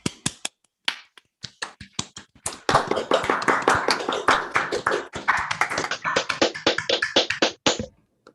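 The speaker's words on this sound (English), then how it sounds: "I think we can all clap." Scattered hand claps after an academic talk build into a dense round of applause from a small group, then taper off to a few last claps.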